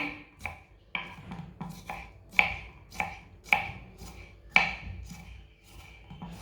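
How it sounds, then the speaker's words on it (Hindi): A knife chops finely through two cucumbers on a board in steady, close, crisp strokes, about ten cuts in a regular rhythm with no talking. "इसी तरह दोनों खीरों को बारीक बारीक काट लेना।"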